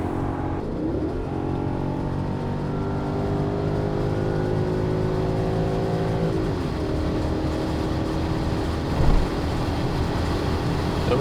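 A rare BMW Touring wagon accelerates hard at high speed on the motorway, its engine note climbing steadily through the gears under heavy wind and road roar, heard from inside the cabin.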